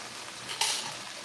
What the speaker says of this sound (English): Let's put some garlic up in there.